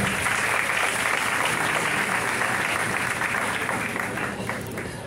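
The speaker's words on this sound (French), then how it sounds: "Cette joie va être exprimée par un cri d'applaudissement." Steady, dense applause from a crowd fills the whole stretch, loud and continuous, tapering only slightly at the end.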